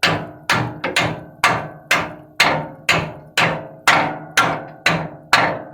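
Metal hammer tapping a loosened nut on the front suspension of a 1962 Chrysler Imperial Crown during torsion bar and control arm work, about a dozen sharp ringing strikes at a steady rhythm, close and loud.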